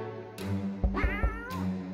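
A cat meows in the video game 60 Seconds!, with a few short, close meows in quick succession over a soft, steady background tone.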